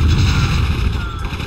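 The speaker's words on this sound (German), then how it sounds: "Und explodiert auch sehr schön." A building explodes in the strategy game Warzone 2100, a loud sustained low-frequency blast with rumbling debris that stays heavy throughout.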